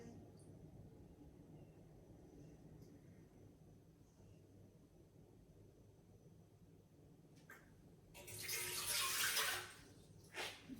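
Water is poured into a measuring jug, about 240 ml, while preparing a baking recipe in a home kitchen. A quiet room hum comes first, then a short, close, splashy pour rises near the end before stopping.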